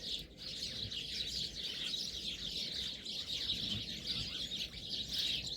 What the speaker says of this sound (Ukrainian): Давайте послухаємо горобці.